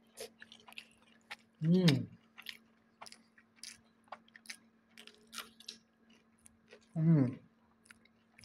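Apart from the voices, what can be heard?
chewing while eating curry rice with squeezed lemon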